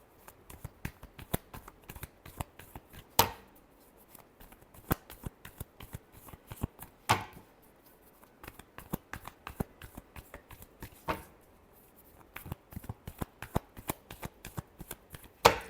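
Tarot cards are shuffled by hand in repeated rapid riffles and soft slaps, with sharper snaps every few seconds as the deck is squared, close and fairly quiet.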